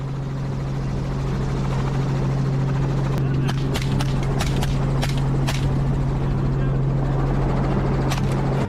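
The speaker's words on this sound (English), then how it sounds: "hearing protection to guard against the helicopter's noise" A helicopter used for hunting flies nearby with a steady, loud low drone and a constant rotor hum, while sharp knocks and clicks break in during the middle.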